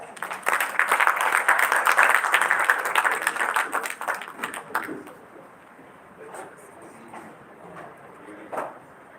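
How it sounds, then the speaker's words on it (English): Applause for a chairperson being felicitated at a dental professionals' gathering: dense clapping swells for several seconds, then thins out into scattered, fading claps with a last isolated burst. "Give him a huge round of applause."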